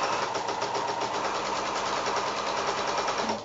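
Sewing machine running steadily while stitching quilt binding strips, a continuous close mechanical whir with a fine rapid needle pulse and no pauses.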